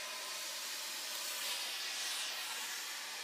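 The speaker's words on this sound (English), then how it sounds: "you want to take your steam iron once again, and you want to steam press this" Steam iron pressing fusible interfacing onto fabric, giving a steady, fairly quiet hiss of escaping steam that holds for the whole stretch with no talking.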